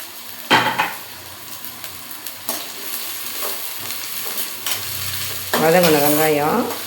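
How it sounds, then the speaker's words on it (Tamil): Onions dropped into hot oil for a home-cooked prawn dish burst into loud sizzling, with utensil knocks against the pan and a second surge of frying toward the end. "எண்ணெய் காஞ்சிருச்சு, வெங்காயம் போடுவோம்."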